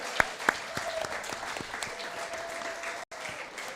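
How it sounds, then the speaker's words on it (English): Audience applause at a Mizzou football Tiger Talk event, a steady wash of clapping from a crowd with a few sharp nearby claps standing out, moderately loud and sustained. "How about a round of applause for Santana Banner?"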